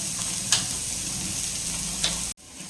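Onion sautéing in a pan for an omelette gives a steady, close sizzle with a couple of faint clicks, and it cuts off abruptly near the end.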